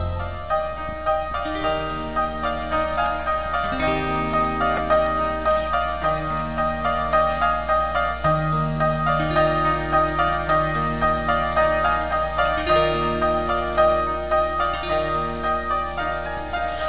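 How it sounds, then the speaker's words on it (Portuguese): Bells chime a Christmas melody over a sustained low accompaniment, bright tinkling notes ringing in a steady tune that continues throughout. "Ouçam os sinos tocando a melodia de boas novas de alegria."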